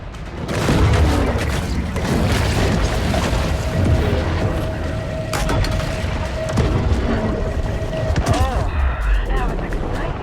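Repeated heavy booms and blasts from underwater torpedo explosions in the Maneater shark game, loud and continuous with a low rumbling tail under the action.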